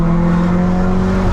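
VW Golf R with manual gearbox and EA888 engine, fitted with a downpipe, 200-cell cat and Remus catback exhaust, on the Trento Bondone hillclimb: a loud, close, continuous engine drone that holds steady with no talk.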